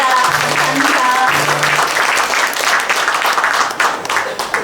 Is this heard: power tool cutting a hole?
no